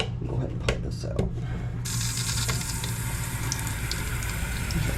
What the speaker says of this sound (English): There's our cold water.